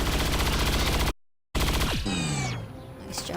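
A sharpshooter rifle shot in XCOM 2 lands as a sharp loud blast, cut by a short silent gap and followed by a crackling, fading tail with sweeping game sounds.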